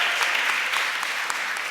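An audience at a retail boot camp showcase gives sponsoring foundations a round of applause, steady and fairly loud, with a few sharper individual claps standing out from the wash.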